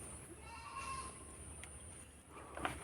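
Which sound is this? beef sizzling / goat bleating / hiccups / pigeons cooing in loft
goat bleating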